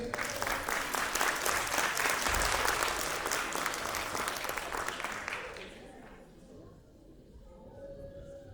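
Sustained audience applause at a school awards ceremony for the Bulgaria Land of Heroes competition, dense steady clapping that fades out after about six seconds into quieter room sound.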